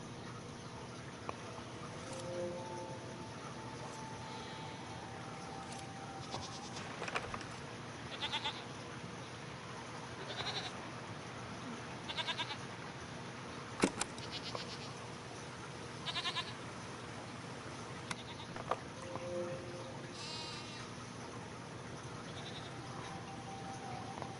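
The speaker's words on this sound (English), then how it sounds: "What are these strange goat-like creatures? Are they simply goats?" Goat-like creatures in the video game Season: A Letter to the Future bleat faintly and at a distance, with scattered short calls over a quiet outdoor ambience.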